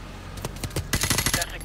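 Automatic gunfire in the video game Call of Duty 4 Remastered: a few scattered shots, then a dense, loud burst of rapid rounds close by, with faint speech in the background.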